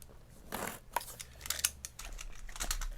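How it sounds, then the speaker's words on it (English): A box cutter slicing through packing tape on a shipping box, giving a few close scraping, tearing cuts with crinkly rustling of tape and cardboard between them, moderately loud and without talking. "Hope I'm cutting the right bits of tape."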